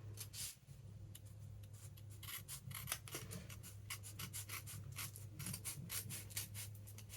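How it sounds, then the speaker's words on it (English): Scissors snip through a paper envelope, making a close, faint series of crisp cuts and rustles in a quick irregular rhythm. "Out snipping through my envelope if I can manage it."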